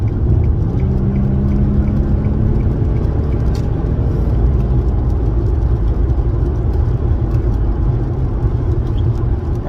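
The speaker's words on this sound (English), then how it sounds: "I really enjoy driving this car" An Infiniti G37 cruises in the fast lane, its engine and road noise forming a loud, steady rumble and whir close by, with no talking over it.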